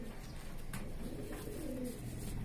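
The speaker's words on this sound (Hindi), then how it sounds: "ये क्रॉस में कबूतर है।" A crossbred pigeon coos softly and repeatedly, its low, rolling calls sitting over a steady background murmur.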